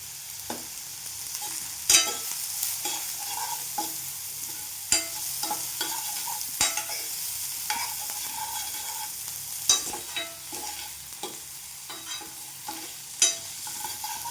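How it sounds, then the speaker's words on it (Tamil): Onions and asafoetida sautéing in hot oil for a Tamil kuzhambu, a steady soft sizzle with occasional sharp clinks and scrapes of a spoon stirring the pan, no voices. "அதனால் கொஞ்சம் இந்த மாதிரி ஹீட்டு தணிஞ்ச பின்னாடி நம்ம பெருங்காயம் போட்டுக்கலாம்"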